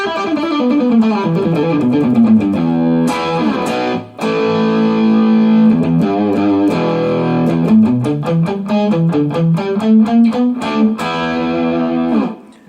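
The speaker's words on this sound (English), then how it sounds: "can hear it's just got a great full-bodied crunch tone to it" Electric guitar through a crunch overdrive pedal with a gritty crunch tone playing riffs and sustained chords, loud and close, with a brief pause midway.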